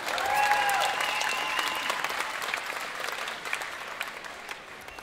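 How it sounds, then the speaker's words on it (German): Audience applause at a rock'n'roll concert by a band on stage, a steady wash of crowd clapping with a brief whistle at the start that gradually tapers off. "Ein super Applaus für die jüngste Generation!"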